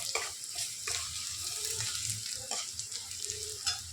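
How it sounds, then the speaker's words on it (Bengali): Onion and tomato stirred in a hot pan while cooking Maggi noodles, with a steady sizzle and several short, close scraping strokes from the utensil against the pan. "এখানে অ্যাড করে দিলাম, এবার এটাকে নাড়াবো"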